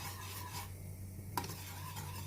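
A wire whisk scrapes and rasps against the bottom of a pot while stirring thickening chocolate cream on a gas stove, a steady close grating with a sharp clink near the middle, no talking.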